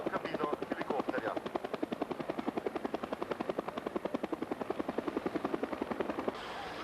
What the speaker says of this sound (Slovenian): močno oborožen helikopter, ki lahko dvigne 5 ton tovora